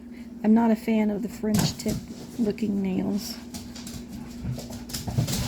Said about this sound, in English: Apologies for the noise, my dogs are playing.